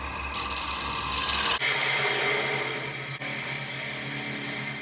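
A bottom feeder gouge scrapes out the inside of a spalted apple ogee bowl spinning on a lathe, a steady close rasping rub with the motor hum underneath and two brief dips in level.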